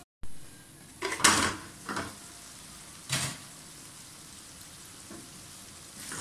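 Softened tomatoes fry in a pan for a mixed vegetable dish, a faint steady sizzle under a few sharp clinks of a utensil against the pan, then quieter frying.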